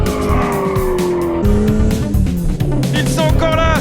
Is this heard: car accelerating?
yes